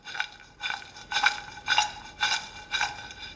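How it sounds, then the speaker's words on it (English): Untoasted cashews for homemade granola clatter into a bowl in six evenly spaced, crisp rattling bursts, close and moderately loud, with no talking. "Now we're going to add in our untoasted cashews."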